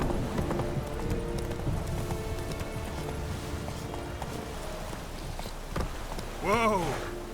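The horse Roach galloping through rain in The Witcher 3, with steady close hoofbeats on wet ground under falling rain, a brief whinny near the end, and speech over part of it.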